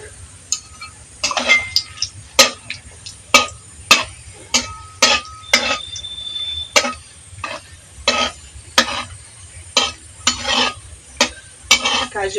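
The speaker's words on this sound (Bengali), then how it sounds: "কাজু বাদামটাও হালকা আঁচে ভেজে নেবো" Cashew nuts frying in oil on low heat in a pan, a quiet steady sizzle under repeated sharp clinks and scrapes of a spatula stirring against the pan, roughly every second.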